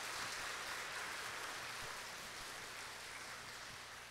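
A church congregation applauds the choir at a Wesleyan joint revival gathering in Gangneung, a steady broadband clapping that fills the hall evenly and fades slightly toward the end.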